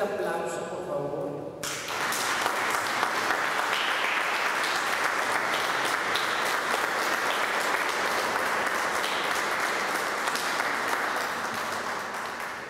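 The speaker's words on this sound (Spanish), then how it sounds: "te invito a que voltees hacia atrás y le demos otro fuerte aplauso" An audience at a quinceañera celebration breaks into sustained applause, a dense wash of clapping hands that starts abruptly and holds steady to the end, with brief speech at the very start.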